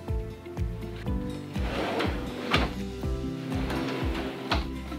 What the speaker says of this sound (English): here we have a stainless steel drawer that makes it much easier to clean